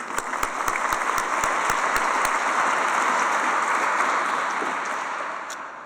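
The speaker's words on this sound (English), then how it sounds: "Another round of applause." Sustained applause from an awards ceremony audience in a large hall, dense and steady throughout, with a few sharper claps near the start before it slowly fades.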